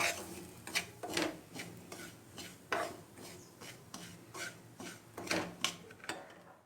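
Semolina (rava) roasts in a pan on medium heat while a spoon stirs it, making close, rhythmic scraping and rubbing strokes against the metal at an irregular pace.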